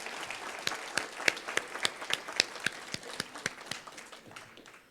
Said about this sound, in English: Let us give a even more rousing applause for